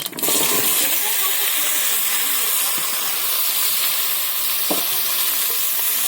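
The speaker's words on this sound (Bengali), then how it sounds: "তেল ঢেলে দিয়েছি। তো এর মধ্যে সর্ষে দিয়ে দেবো, দিয়ে আলুগুলো দিয়ে দেবো।" Mustard seeds and potatoes frying in hot oil in a home kitchen, a loud steady sizzle and hiss running through the whole stretch with a couple of faint clicks of spattering seeds.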